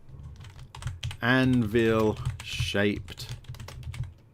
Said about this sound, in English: My typing.